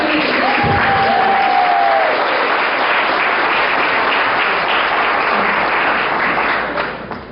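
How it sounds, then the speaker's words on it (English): An audience at a fashion show bursts into sustained, dense applause that stays loud and even for several seconds before starting to fade at the end, with a brief voice heard early on. "Please give her a round of applause."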